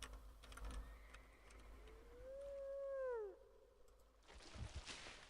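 Dogs in the Caveman2Cosmos strategy game give a single rising and falling howl with harmonics, faint and alone, followed by a brief burst of other game noise.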